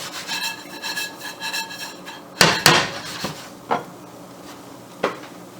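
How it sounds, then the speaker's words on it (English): Breadcrumbs tossed in a pan for a béchamel mac and cheese, giving a dry rasping scrape followed by a few sharp clinks and knocks of the pan, close and fairly loud, with no talk. "All you need to do is just push the pan away from you and flick it back towards you."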